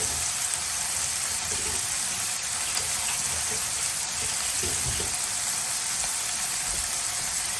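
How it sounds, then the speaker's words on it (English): Tap water runs steadily into a sink while hands are rinsed, a continuous close broadband hiss with faint splashes throughout and no talking. "And rinse off my hands."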